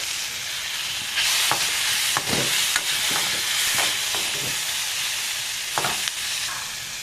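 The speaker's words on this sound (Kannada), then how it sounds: "ಇದರ ಹಸಿ ವಾಸನೆ ಹೋಗೋ ತನಕ ಫ್ರೈ ಮಾಡೋಣ" Steady loud sizzling of ridge gourd pieces frying in a pan, with intermittent scraping and clacking of a spoon stirring, no voices.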